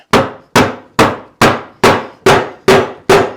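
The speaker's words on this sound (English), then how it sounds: "we just hammer this bad boy on" Eight sharp metallic hammer strikes in a steady rhythm pound a part onto a YZ250 motorcycle handlebar, each ringing briefly before the next blow, loud and close.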